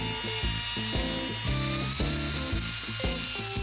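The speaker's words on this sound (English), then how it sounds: "After the carbide does the work, everything gets smoothed out with a cartridge roll." A cartridge roll on a power tool smooths an oil passage in a 4.3L Chevy V6 engine block, a loud whirring grind that rises and falls in short repeated passes without speech.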